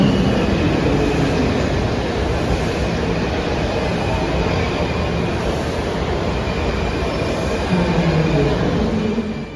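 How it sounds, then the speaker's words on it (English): DC Metro subway trains rumble through L'Enfant Plaza station, a dense, continuous roar of wheels and motors filling the platform with faint squeals, steady and loud throughout with no talking. "standing at a busy station like this and just being able to see and hear trains on different levels"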